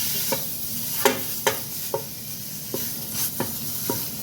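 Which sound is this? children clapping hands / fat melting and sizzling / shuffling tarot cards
fat melting and sizzling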